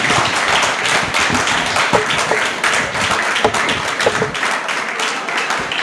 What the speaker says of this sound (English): Please, the rounds of applause.